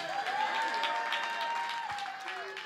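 Crowd at a hip-hop induction ceremony applauding a DJ, steady clapping with scattered cheers heard at a moderate distance, with a voice faintly carrying over the applause.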